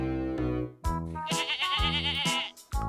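A goat bleats loudly and close in an animated children's story, giving several wavering, nasal cries in quick succession with short pauses between them.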